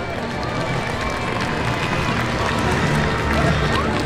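A crowd at an outdoor motorbike stunt show at a steam fair, a broad steady roar of cheering and applause that stays loud throughout, with an announcer's voice over it.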